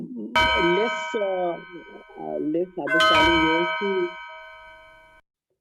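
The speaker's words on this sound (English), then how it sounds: "Is there a bell?" Bell rung to signal a speaker's time is up at a talk, two clear bright rings with a long ringing decay, under and between talking.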